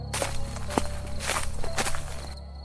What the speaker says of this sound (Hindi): तभी अचानक मंदिर के बाहर से कदमों की आवाज आने लगी